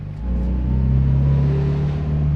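Toyota FRS 86 fitted with a new aftermarket exhaust and no mid-pipe resonator, cold-starting into a loud, steady idle with a deep droning rumble and a faint rise in revs, close up.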